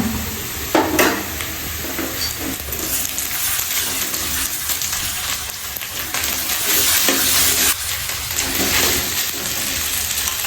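Cooked rice being stirred with oil and onion in a hot pan for a chickpea rice breakfast, with continuous loud sizzling and frequent scraping strokes, up close.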